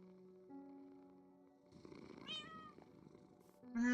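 A pet cat in Minecraft purrs quietly beside a sleeping player, a faint low rumble under soft game ambience, ending in a louder game sound.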